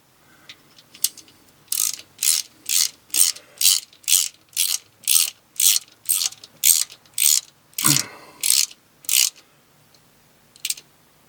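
A ratchet clicks in about fifteen quick, even bursts as it snugs the oil pan bolts on a 2015 RAV4, close and crisp, with brief pauses between strokes and no talking.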